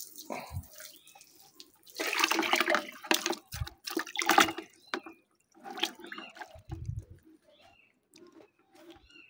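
Water thrown in bursts over a Honda Beach Street motorcycle, with irregular splashes and sloshing close by, separated by quieter gaps of dripping and trickling.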